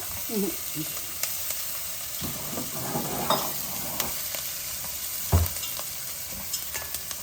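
Onions frying in a pan for mutton curry, a steady low sizzle with occasional scrapes and knocks of a spoon stirring, fairly quiet and close, a few faint voice sounds early on.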